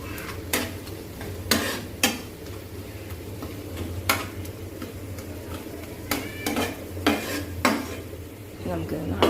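Onions and curry leaves sizzling in a pan, a steady fry hiss broken by sharp metallic scrapes and clinks of a spoon stirring against the pan.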